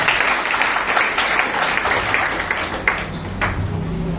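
An audience at a business presentation applauds, a steady, fairly loud wash of clapping that holds for several seconds and eases slightly toward the end.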